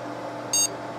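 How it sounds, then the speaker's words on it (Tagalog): A desktop computer restarting after BIOS settings are saved gives a single short, high electronic POST beep code over a steady low fan hum, with no voices. "Pakinggan natin yung beep codes."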